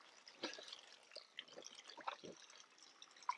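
Spring water trickles and drips into a freshly built spring box, soft irregular splashes and gurgles close by, faint and quiet against a still background.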